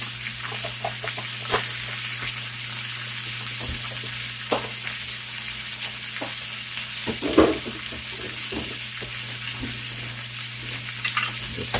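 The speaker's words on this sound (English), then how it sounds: "we'll use some of that to saute it and give it that buttery flavor" Brussels sprouts sauté in butter for a ribeye steak and seasoned rice dinner, giving a steady close sizzle with occasional stirring scrapes and clicks, no voices.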